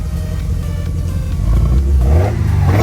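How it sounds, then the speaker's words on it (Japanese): A Toyota AE86 with individual throttle bodies idles with a deep, throaty rumble, then swells into a louder rev near the end, heard close up without any talk. "この4スローの音が素晴らしい"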